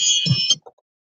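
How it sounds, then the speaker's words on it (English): A short, harsh electronic timer buzzer sounds once for about half a second, then cuts off into silence. "Did you hear the buzzer go off?"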